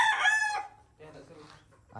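A farm rooster lets out a loud crow up close, then quieter clucking and calls follow.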